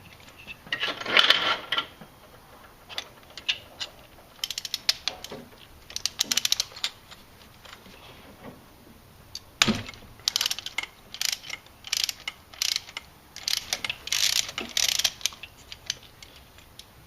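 A ratchet on a locking socket extension turns a spark plug on a 1999–2008 Jeep/Dodge 4.7 engine. Clicking bursts come close and sharp, with pauses and metallic handling between, and no talk.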